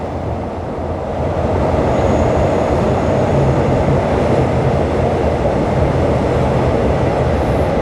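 Commuter train running on rails between Bangkok Aphiwat Central Station and Don Mueang, a loud, steady rumble with dense clatter heard from inside the carriage, no voices.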